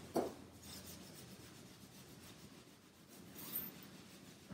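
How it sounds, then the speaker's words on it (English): Hands rub over arms and shoulders in a soft, continuous scratchy swishing, faint and close, with a few louder strokes at the start and end and no talk. "you can rub your arms,"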